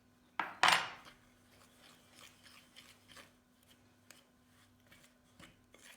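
Utensil scraping and stirring through cake batter for an Italian dove cake in a home kitchen, a couple of loud clattering scrapes at the start, then softer intermittent mixing strokes.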